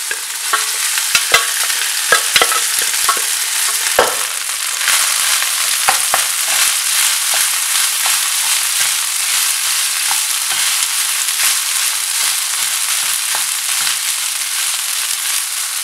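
Rice is stirred in a hot pan with urad dal, dry red chilies and asafoetida, giving a loud, continuous sizzle with scraping and clattering stir strokes close up.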